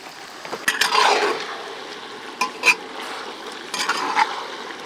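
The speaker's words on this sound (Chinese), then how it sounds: "猪肉上的油煸出来，下料头，葱姜干辣椒、八角、香叶、白子、生抽、老抽、蚝油" Pork pieces stir-fried in a clay pot with scallion, ginger, dried chili and star anise, giving a steady close sizzle with scraping stirs and a couple of light utensil clinks, with no talk.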